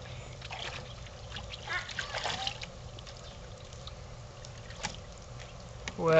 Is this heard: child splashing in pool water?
yes